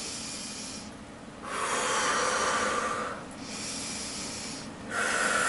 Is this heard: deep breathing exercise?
yes